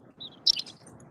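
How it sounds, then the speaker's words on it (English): Outdoors near a district court, birds give a few short, faint chirps and one brighter tweet in the middle, over quiet low background noise. "I hear the birds"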